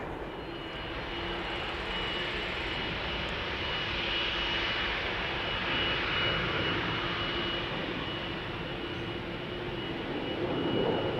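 A 15-year-old long-range CRJ jet taking off from Amsterdam Schiphol, its steady broadband engine roar loud and continuous, building slightly toward the end, with no voices.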